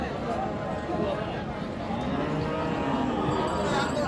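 A bull calf lows at a busy cattle market in Dinajpur, a short, muffled moo buried in a dense crowd of talking voices and constant background noise.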